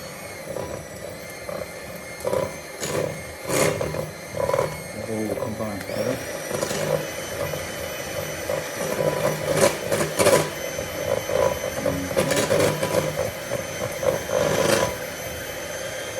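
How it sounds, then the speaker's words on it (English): Electric hand mixer beaters whisking sticky toffee pudding batter in a bowl, a steady whirring motor hum with rattling beater clatter, running continuously while a person talks over it. "now I've got my beaters. I'm going to whisk this together pretty reasonably quick."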